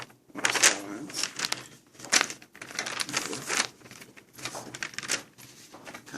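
Scissors cutting fabric along style lines while draping a bias twist top, giving a series of short crisp snipping and rustling bursts, close and fairly quiet, in uneven clusters with brief pauses between cuts.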